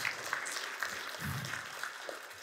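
An audience at a Kotlin programming conference claps after a talk, with steady, fairly thin applause that runs on without a break at a moderate distance.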